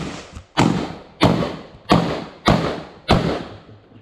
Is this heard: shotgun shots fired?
yes